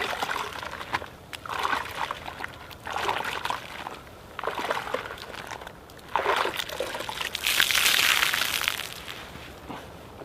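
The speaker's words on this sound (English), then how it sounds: "every panel or so you're going to want to rinse out your wash mitt in the clean water bucket" A car wash mitt gets rinsed in a clean water bucket, giving repeated trickling and sloshing bursts of water in a loose rhythm, close by and moderately loud, with a stronger splashy stretch toward the end.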